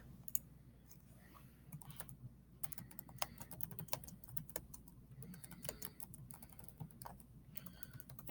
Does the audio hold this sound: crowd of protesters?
no